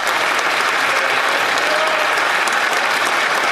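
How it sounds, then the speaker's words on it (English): Members of the Canadian Parliament clapping in the House of Commons, a dense, steady round of applause from many hands, loud and continuous throughout, with faint voices mixed in. "Even Conservatives are clapping."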